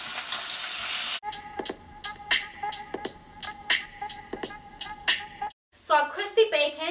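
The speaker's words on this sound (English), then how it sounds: "That's what you wanna hear, a nice sizzle to your pan." Bacon strips sizzle and crackle steadily in a hot pan, a dense hiss with popping bursts, briefly cut off near the end before resuming.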